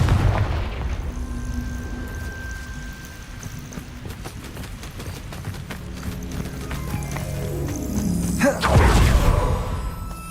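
Confringo explosion spell in the Hogwarts Legacy video game, a booming fiery burst that swells near the end over busy game ambience of clattering, hoof-like thumps and a faint tone, with no voices.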